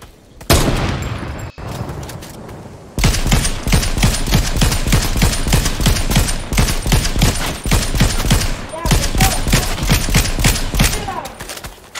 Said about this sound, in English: Shot that person in the arm.